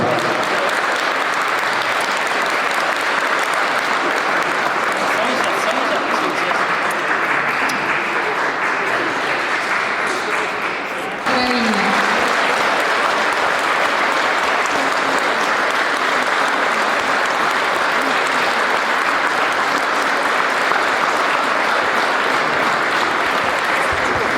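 Sustained applause from an audience at a 2020 municipal award ceremony in Tłuszcz, steady and dense throughout, with a brief dip partway before the clapping swells again.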